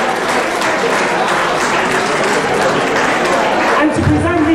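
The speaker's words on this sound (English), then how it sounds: "Please give them a round of applause." A round of applause from an audience at a foundation charity event, steady dense clapping filling the room throughout, with some voices mixed in near the end.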